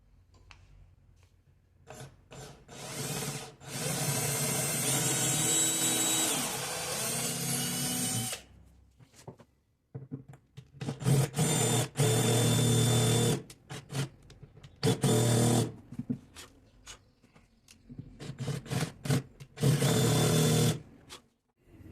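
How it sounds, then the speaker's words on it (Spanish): A power drill bores a countersink for a screw head into a bridge piece, running in several whining bursts of a few seconds each, close and loud, separated by short quiet pauses. "vamos a necesitar otra mecha que coincida con el diámetro de la cabeza del tornillo para poder embutirlo en el puente"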